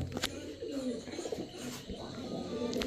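China Khaki pigeons coo in soft, repeated throaty calls close by at a pigeon sale, with people talking over them and some fluttering and rustling.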